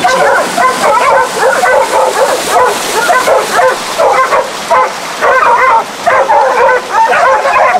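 Dogs barking and yipping continuously during a wild boar hunt in the Hamakua countryside of Hawaii, loud and close, with rapid overlapping barks and whimpers filling the whole stretch.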